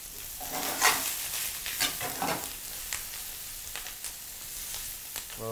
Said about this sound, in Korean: 이렇게 이제 재료가 노릇하게 볶아지고 있잖아요.